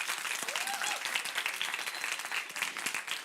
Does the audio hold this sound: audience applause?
yes